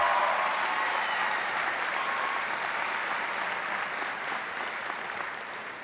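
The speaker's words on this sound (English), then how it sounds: "Please join me in giving a round of applause as the honors graduates please stand" Commencement audience applauding honors graduates as they stand, a broad, sustained roar of many hands in a large hall, steady and slowly easing toward the end.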